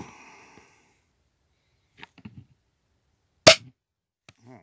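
A modded Nerf Alphastrike Mantis blaster fires an egg shot dart in a single sharp, loud pop, preceded by faint handling clicks and followed by a few small clatters.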